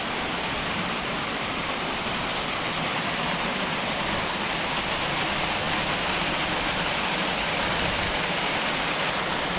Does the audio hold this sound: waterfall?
yes